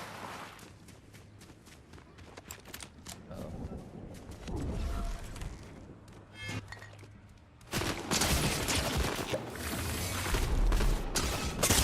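Gunfire in the video game Fortnite, rapid bursts and scattered shots over busy game noise that grows louder and denser toward the end.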